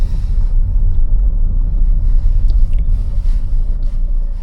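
Chevrolet Cruze idles after pulling over near a stop, a steady low engine rumble heard close up and alone, with some wind buffeting.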